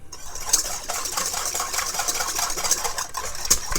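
Calabrian chili vinaigrette is whisked briskly with a pinch of salt in a bowl, a steady close scraping and swishing with a few sharper clinks.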